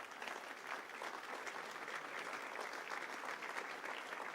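Sustained applause from a church congregation during a Friday service, steady dense clapping throughout without pause.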